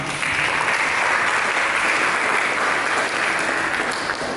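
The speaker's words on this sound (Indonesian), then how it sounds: "Mari kita berikan tepuk tangan." A church congregation applauds in a dense, even burst of clapping that holds steady from start to finish with no talk over it.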